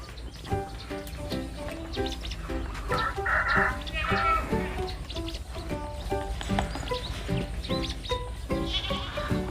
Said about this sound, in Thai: แพะพวกนี้กำลังจะโตนะครับ